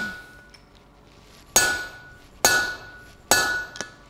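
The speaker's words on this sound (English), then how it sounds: "Half a dozen hammer blows or so," Three sharp metallic hammer strikes on a steel punch ring out at steady intervals, each with a bright, ringing decay, while forging the punch.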